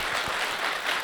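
A concert crowd at a live New Year comedy and music show claps in a dense, continuous wash of applause that lasts for about a second.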